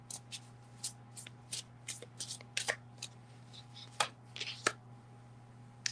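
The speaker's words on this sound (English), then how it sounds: "Let me draw a card for you." Tarot cards are shuffled by hand before one is drawn, giving a close series of irregular papery riffles, slaps and snaps over a steady low electrical hum, with no one speaking.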